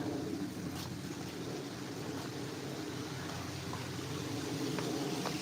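Water flows steadily past a nature-themed cafe garden, a constant broadband rush that holds even and unbroken throughout with no voices on top.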